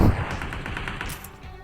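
Gunfire in the game PUBG Mobile, a short rapid burst of shots that begins with a sharp loud report and fades quickly over under two seconds.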